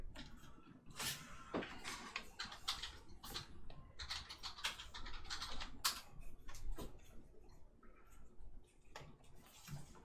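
Someone types on a computer keyboard in uneven bursts of quick clicks with short pauses, close by and fairly clear, and nobody speaks over the tapping.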